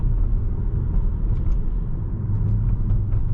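An Alfa Romeo Tonale pulls hard in second gear, its engine giving a deep steady rumble with road noise, close and fairly loud, no speech over it.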